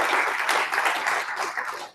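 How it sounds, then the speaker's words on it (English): An audience at a lecture-hall presentation applauds the university tech staff, a dense burst of many hands clapping that holds steady and then tapers off. "I think I probably ought to start by asking everybody to applaud the OSU tech folks who got everything set for the feed from DC."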